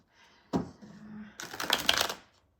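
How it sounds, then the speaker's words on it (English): An oracle card deck is riffled in a quick, close shuffle that swells to a burst of papery flutter after a brief tap and a soft hum. "Oops, I can't seem to shuffle."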